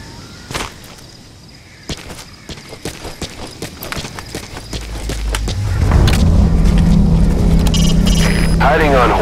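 Horse hooves from riding on horseback in Metal Gear Solid 5 clop in a quick, regular rhythm under a voice, then give way to a louder, rumbling wash of movement and wind.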